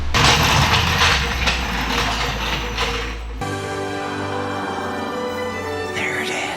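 A car jack lifts a Toyota A90 Supra with a steady mechanical ratcheting grind, close and continuous, with a change in tone partway through.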